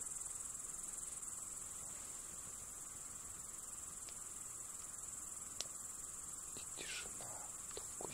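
Crickets chirp at dawn beside a fishing spot, a dense, steady, continuous trill that fills the whole stretch at an even level, with only a few faint clicks and no voices.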